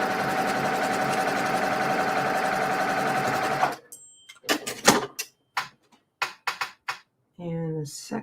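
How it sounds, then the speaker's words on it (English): A sewing machine stitches along a marked line on a quilt block with a steady, fast mechanical whir. It then stops, followed by scattered handling clicks and a voice. "Sew on the line."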